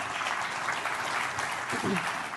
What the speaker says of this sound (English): An applause for Chris.